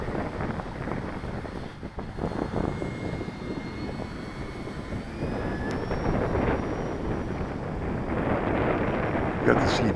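An Eflite Carbon-Z Cub SS radio-controlled plane flies slowly overhead with its motor at half throttle, a steady whirring drone mixed with wind noise across the microphone.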